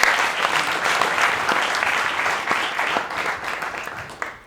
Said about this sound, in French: Donc applaudissements pour Alexia qui a réussi ça